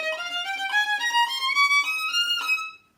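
A violin plays a line from Tchaikovsky's 1812 Overture in double stops starting on a down bow, a steady run of sustained bowed notes stepping upward, close and clear with no talking.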